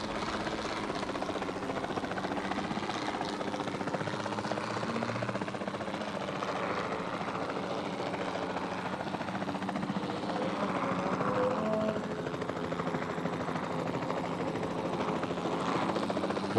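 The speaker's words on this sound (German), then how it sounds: "wir werden uns jetzt mal schnell den Heli hier schnappen" A helicopter in the video game Jurassic World Evolution 2 flies with a continuous droning rotor thrum and engine whine, steady and fairly loud across the whole stretch.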